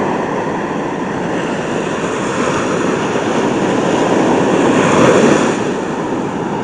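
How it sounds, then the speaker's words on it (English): Large ocean waves breaking on the shore make a continuous loud roaring surf that swells toward a peak and then eases, heard alone without voices. "Pretty big waves."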